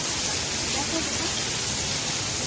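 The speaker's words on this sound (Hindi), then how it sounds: "दोबारा से स्टार्ट हो गई है बारिश। मतलब आज पूरे दिन हो रही है, बंद हो रही है, हो रही है, बंद हो रही है। और ये बहुत तेज़ हो रही है," Heavy rain pours down in a steady, dense hiss that stays unbroken and loud, with no pauses and no distinct drops standing out.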